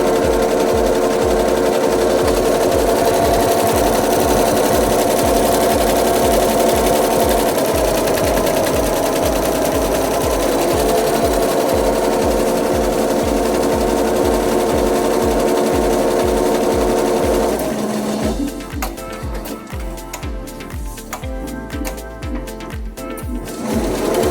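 A two-head Shanggong GX1202C embroidery machine runs with a loud, fast, steady mechanical stitching rhythm, then shifts to a quieter, lighter running sound near the end.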